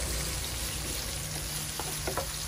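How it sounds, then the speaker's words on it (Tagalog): Chicken kinamatisan being stirred in a pan, a steady close sizzle of frying with a few soft scraping strokes near the end, no voices. "Haluin natin."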